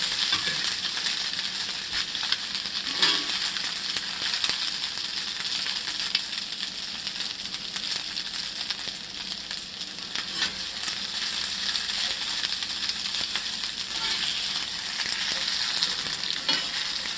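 Knoephla dumplings fry and brown in a pan with a steady, close sizzle. Occasional scrapes and light clinks of stirring come through, and no one speaks.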